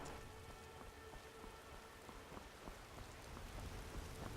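Steady rain falls in modded Skyrim SE, a soft continuous patter of drops on surfaces with faint low rumbling beneath, quiet and even throughout, no voices.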